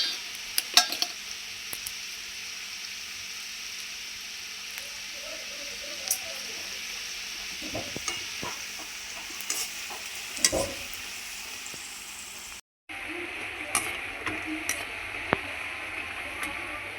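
Nimki fries in hot oil in a home kitchen, a soft continuous sizzle with occasional light clinks and scrapes of a utensil, steady throughout.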